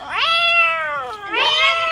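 A child imitates a cat with two drawn-out, wavering meows, close and clear, with no other sound.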